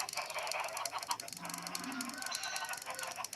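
Chickens on a farm cluck and squawk in a busy, overlapping chorus, fairly faint and steady, with a low honking call rising briefly in the middle.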